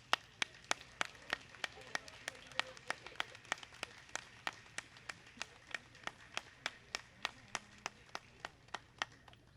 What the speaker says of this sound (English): everybody can give you your due applause